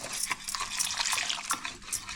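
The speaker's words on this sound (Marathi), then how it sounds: "त्याच्यामध्ये पाणी घालून त्याला मिक्स करून घेऊया" Water mixed into a flour dough with oil and salt in a bowl, wet squelching and stirring sounds in irregular bursts, close and fairly quiet.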